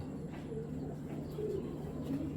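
Pigeons, a pair of green-necked birds, coo in soft low repeated phrases close by, with faint chirps scattered through a steady background hum.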